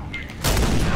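A sniper rifle fires in Uncharted 4: A Thief's End multiplayer on PS4: after a brief quieter moment, one sharp, loud shot bursts in and rolls into a sustained, booming tail.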